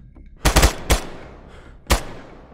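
Gunfire in the tactical shooter Ground Branch comes as a quick burst of three close, sharp shots, then one more single shot about a second later, loud against a quiet background.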